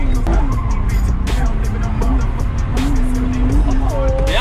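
A BMW E36 drifts at a drift event, its engine revving hard and rising and falling while the tires squeal continuously, loud and close, with excited shouting over the noise.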